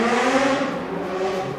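A Honda Hornet motorcycle engine revs steadily under acceleration, loud and close, with a sustained buzzing roar and no voices over it.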